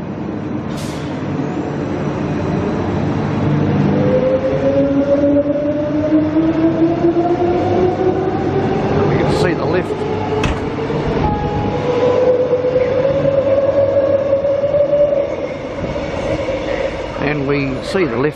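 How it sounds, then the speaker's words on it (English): A Brisbane suburban electric train departs Toombul station for Shorncliffe, with a rising electric motor whine over a steady rumble, loud and close, with faint voices and a few clanks along the way. "The train is now departing"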